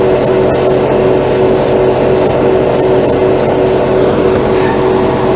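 An airbrush spraying OdenKan lacquer paint onto a black plastic spoon, a steady close hiss broken into short repeated bursts over a constant compressor hum.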